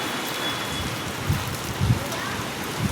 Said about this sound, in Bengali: কি পরিমাণে বৃষ্টি।